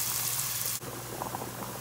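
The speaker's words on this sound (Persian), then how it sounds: "و مکرونی هم اینجا در حال جوش خوردنه." Macaroni boiling in a pot of water on a stove, giving a steady close hiss of bubbling liquid with a brief dip partway through and no talk.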